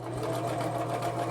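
A sewing machine running a continuous zigzag stitch on a quilt, a loud, close, steady mechanical drone with a fast pulsing rhythm throughout.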